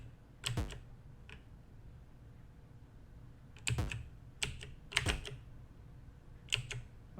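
Keys pressed on a Commodore 64 keyboard: a handful of sharp, separate clacks spread over several seconds, some in quick pairs, loud and close against a quiet background hum with no talk.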